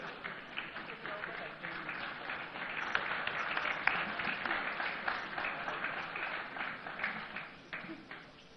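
Audience applause at a CEO summit, a sustained crowd of clapping hands with rapid overlapping claps, moderately distant and steady throughout.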